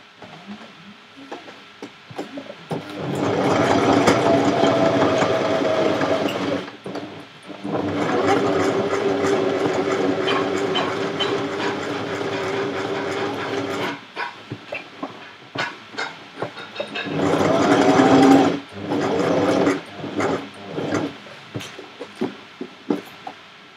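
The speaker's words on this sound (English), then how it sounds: "I will just sew this." A sewing machine stitches fursuit fabric in long continuous bursts of whirring motor drone with short pauses between runs, close and fairly loud, with no talking over it.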